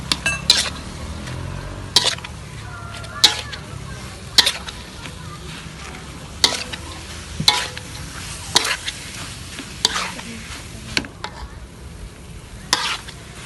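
Acehnese fried rice, nasi goreng khas Aceh, stir-fried in a pan: a spatula scrapes and clanks against the metal in regular loud strokes about once a second over a soft continuous sizzle, with no talking.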